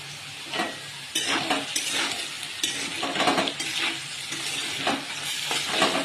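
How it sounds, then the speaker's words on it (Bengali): Potatoes fry in a pan for a Maggi noodle recipe, sizzling steadily up close while a spatula repeatedly scrapes and clatters against the metal as they are stirred. "আলুগুলো ভালো করে ভেজে নেব"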